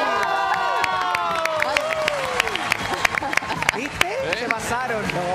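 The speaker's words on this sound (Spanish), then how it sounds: "El aplauso para Álvaro Pachi." A television studio audience claps and cheers for Álvaro Pachi, with sharp scattered claps, a crowd roar and excited shouting voices mixed in.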